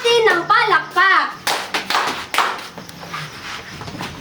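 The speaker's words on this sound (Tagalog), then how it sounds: "Bigyan natin ng palakpak." Children in a classroom clap for a group after a teacher's praise, a few sharp rhythmic bursts of hand claps following a short spoken line from a young voice.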